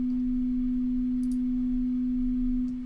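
A steady pure sine tone, the 7.83 Hz Schumann resonance shifted up several octaves to a C note, holds unbroken for a few seconds with faint background hiss and a couple of tiny clicks.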